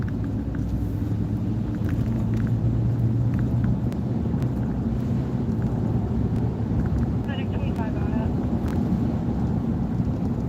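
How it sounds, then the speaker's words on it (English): Strong wind surges during a storm, a dense low roar and rumble buffeting the microphone throughout, loud and continuous, with a faint voice underneath. "the wind has really picked up"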